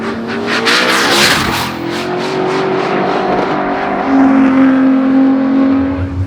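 An LC twin turbo small block Chev engine running a FuelTech EFI system revs hard and loud, close up, with a rising then sustained roar that climbs again in pitch near the end, with no talk over it.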